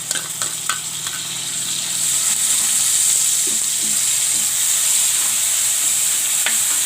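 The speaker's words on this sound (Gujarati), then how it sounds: "હવે આપણે એમાં ડુંગળી નાખી દેવું," Grated onion sizzles and fries steadily in a pan with ginger and chillies, a continuous close hiss with a few soft stirring knocks, and no voices.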